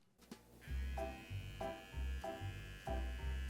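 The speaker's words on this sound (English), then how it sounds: "What was that buzzing noise in there though? Oh, just trimming all the pubes from the cob." A small electric trimmer buzzes in steady, close-up bursts while trimming an ear of corn on the cob, the motor hum pulsing roughly every half second with a constant high-pitched whine underneath.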